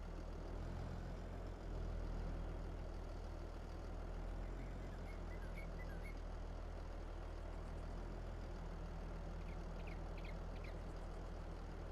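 A tractor idles in a farming game with a deep, steady low rumble that stays loud and continuous, and faint bird-like chirps appear in the background.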